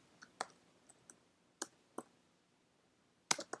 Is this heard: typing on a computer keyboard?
yes